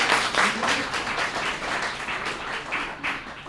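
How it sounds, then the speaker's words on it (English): Scattered audience clapping at a workplace-culture design talk, a steady patter of hands that stays moderately loud throughout without swelling into a big ovation. "You know, people don't mind if you clap."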